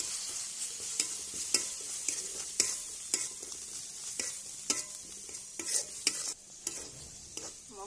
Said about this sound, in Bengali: মশলাটা ভালোভাবে ভাজা ভাজা করে নিলে মশলার গন্ধটা থাকে না